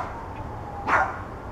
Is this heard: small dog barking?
yes